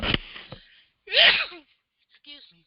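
A single sharp human sneeze bursts out at close range, followed by a brief spoken apology from the same person in a quiet room.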